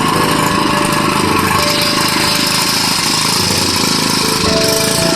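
A small engine fed by a homemade vapor carburetor runs continuously, a loud, steady buzzing drone with a slight pitch shift near the end, no talk over it.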